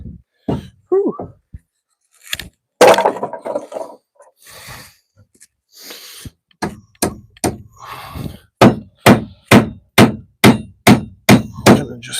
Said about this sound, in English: I'm gonna just hammer it in.